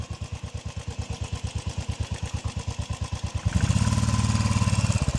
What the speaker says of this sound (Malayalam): വണ്ടിൻ്റെ എൻജിൻ വരെ വെള്ളത്തിലായി